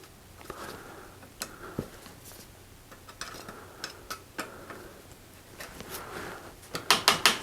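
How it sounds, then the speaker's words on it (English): Tightening the derailleur cable on a Giant Escape bicycle, with scattered small mechanical clicks and ticks at irregular intervals, ending in a quick close run of sharper ratcheting clicks, no talking. "So tighten that cable a little bit."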